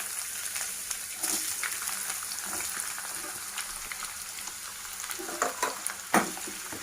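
Onions frying in hot oil with cumin and mustard seeds, a steady soft sizzle with occasional sharper pops and crackles near the end.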